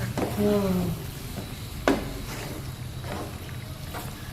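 Peri peri pasta gets stirred in a hot pan, giving a brief scraping stir and a soft sizzle, while a voice speaks at the start.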